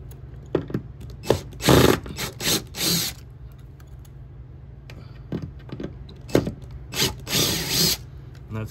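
Screws are loosened and backed out of an electric control box with a power driver, short whirring bursts that start and stop, with small clicks and handling knocks in between.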